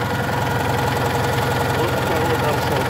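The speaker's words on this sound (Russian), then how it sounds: "Ну работает хорошо, мягенько. А сам моторчик, смотрите, какой маленький." A small Citroen 2CV air-cooled flat-twin engine idles steadily and softly, a continuous close-up mechanical chug with faint knocking texture and no breaks across the whole span.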